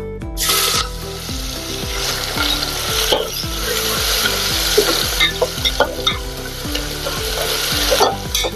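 Onion fries in hot oil with whole spices and asafoetida for soybean pulao, giving a loud continuous sizzle broken by repeated scraping stirs of a spoon in the pan; faint background music may run beneath.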